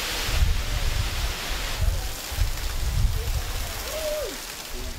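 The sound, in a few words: pouring rain on a palm-branch roof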